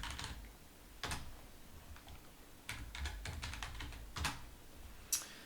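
Keys clatter on a computer keyboard in short bursts of typing, close and fairly quiet, with pauses between groups of keystrokes and no talk.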